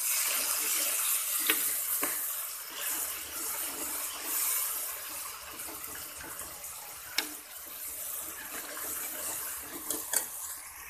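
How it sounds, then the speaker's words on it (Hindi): Water pours and splashes steadily into a pan of frying fish curry masala, with a faint sizzle beneath and a few sharp clinks of a utensil. "इसके अंदर थोड़ा सा पानी डालेंगे।"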